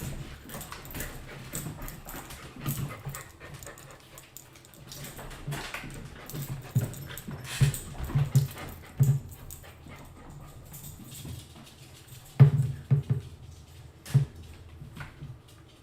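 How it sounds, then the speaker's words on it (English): A dog whimpers in short, soft whines scattered through a quiet room, with a few brief louder yelps near the middle and later on, and a low background hum. "Good dog."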